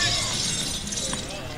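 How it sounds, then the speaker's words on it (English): A crash-of-glass sound effect blares over a ballpark PA at a bronze medal baseball game after a foul ball, a sustained shattering wash mixed with crowd noise and talk. "The crash of glass sound played in the stadium on that foul ball."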